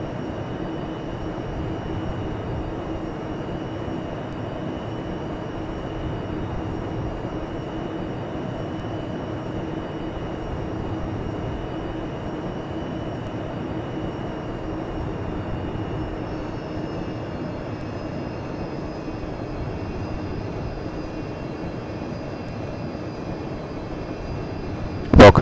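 An Avro Vulcan jet bomber flies at the Eastbourne air display, a constant low engine drone with a faint steady whine, unbroken throughout until a brief sharp burst at the very end.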